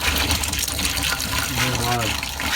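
Water gushes from a travel trailer's water lines as they drain, a steady rushing flow heard up close while someone talks over it.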